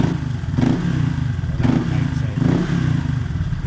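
Honda Click 125i scooter fitted with a TRC power pipe exhaust, its engine revving in three rising bursts over a steady rough idle, close and loud with some clattering.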